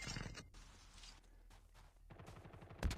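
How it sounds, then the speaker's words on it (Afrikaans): Video game gunfire rings out during a competitive scrim match, with a few bursts of rapid shots spread across the moment and one sharp louder crack near the end. "Skote wat nou geskiet word daar op Metal"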